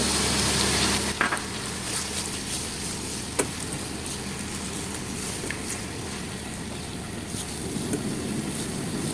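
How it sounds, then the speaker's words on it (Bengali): Tamarind pulp hits a hot pan of garlic pickle with a sudden burst, then a loud, continuous sizzle and bubbling that carries on steadily, heard close with occasional stirring clicks. "এখন আমি তেঁতুলের কাত বানিয়ে রেখেছিলাম, আর তেঁতুলের কাতটা সবাই বানাতে পারে, সেটা আমি ঢেলে দিচ্ছি।"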